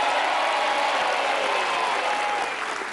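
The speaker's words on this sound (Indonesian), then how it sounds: "tepuk tangan untuk Mbak Ayu" Studio audience at a family game-show taping applauds steadily, a dense, loud wash of clapping that holds evenly and tapers slightly at the end.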